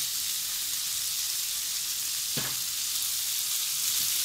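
Dried shallot frying in a pan before zucchini goes in, a loud steady hissing sizzle with one short stir scrape partway through.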